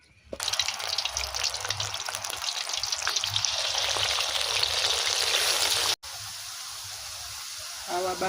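Marinated banana slices deep frying in hot oil, a loud dense crackling sizzle that runs steadily, drops abruptly, then continues quieter with a brief clatter near the end.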